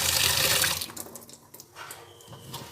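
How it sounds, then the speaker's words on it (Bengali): Masoor lentils are rinsed in a bowl of water, starting with a loud close splash and slosh that settles into quieter trickling and swishing, with no talking. "এবার ডালটাকে ভালো করে দু তিনবার একটু ধুয়ে নেব"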